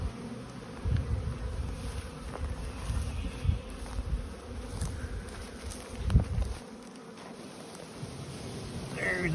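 Dense, continuous droning buzz of many honey bees in a hive box heavy with honey, up close, with soft rustling and bumps.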